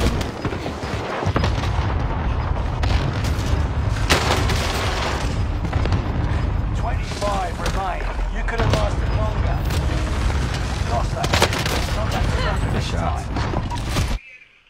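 Bursts of gunfire and booming explosions from a shooter video game, dense and continuous for about fourteen seconds, with players chatting over the top before the sound cuts off abruptly.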